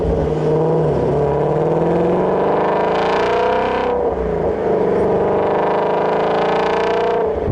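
A 2017 Shelby GT350 Mustang pulls away hard, its engine note climbing through rising harmonics, easing briefly near the four-second mark, then building again, loud and close throughout.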